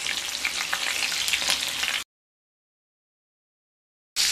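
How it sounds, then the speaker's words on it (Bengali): Garlic cloves and green chillies sizzle in a hot pan with a dense, bright, loud crackle for about two seconds. Silence follows, and the sizzle returns briefly at the end. "আর দিয়ে দেব 12-14 কোয়া রসুন আর 3টি কাঁচা লঙ্কা। সমস্ত উপকরণগুলোকে খুব ভালো করে ভেজে নেব।"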